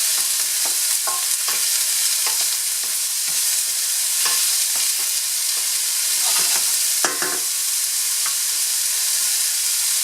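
Onion sautéing in a pan for spring egg rolls, a steady sizzle and hiss with repeated scraping strokes of stirring throughout, close and continuous with no talking.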